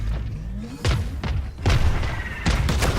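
Missiles fire off one after another in the Valorant video game, a series of deep booming thuds with rising whooshes, each launch loud and close over a steady background hum.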